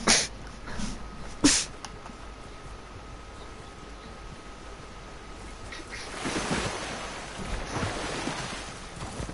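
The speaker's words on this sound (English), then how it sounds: "I'm gonna sneeze" One sharp sneeze bursts out near the start and a second follows a moment later, both short and close over a hissy background, with a louder wash of noise building later.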